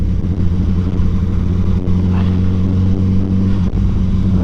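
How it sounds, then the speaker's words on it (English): Honda CBR1000 Fireblade SP1 motorcycle with an aftermarket exhaust, its engine holding a steady, loud, smooth drone close by with no pauses. "smooth and noisy is the first impressions, with the old aftermarket exhaust on it"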